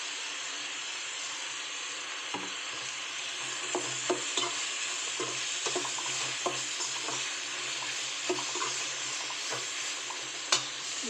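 Field beans (avarekalu) sizzle and fry in a pan for a masala chitranna, with steady broadband crackle throughout and repeated scraping clicks of a spoon stirring, close and moderately loud, no voices.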